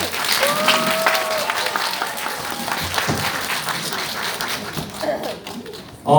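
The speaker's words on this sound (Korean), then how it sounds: "큰 박수 부탁드립니다" A hall audience at a lecture event gives a big round of applause, sustained crowd clapping for several seconds with some voices mixed in before it thins out at the end.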